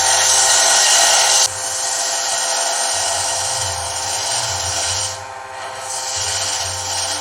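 A wood lathe turning a kit pen blank at 1500 RPM hums steadily while a tool scrapes and rasps against the spinning wood, loud at first, then softer, with scraping that comes and goes and no voices.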